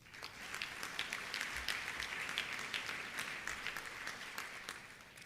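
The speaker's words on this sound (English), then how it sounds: "Please give yourself a round of applause." A large audience at a dinner event in San Jose applauds steadily, a dense, even wash of clapping held at a moderate distance for several seconds with no voice over it.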